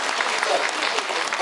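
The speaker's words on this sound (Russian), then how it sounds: "Аплодисменты!" Festival audience clapping together in a dense, steady burst of applause, loud and close, lasting only a moment without pauses.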